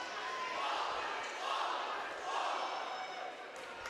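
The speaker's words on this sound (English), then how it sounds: "Crowd getting into it just a little bit there." Volleyball crowd in a gym, EP vs Morrison, cheering and murmuring after a good block, steady broadband crowd noise swelling in two waves over a few seconds, moderately loud.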